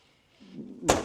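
Side-hinged exterior door on a 2008 Monaco Camelot motorhome, a brief quiet creak followed by one sharp latch clunk as it closes.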